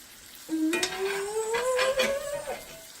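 Meat sizzles in a hot pan as it is basted, a close, crackling fry with stirring scrapes, while a rising, whistle-like tone runs through the middle; no speech.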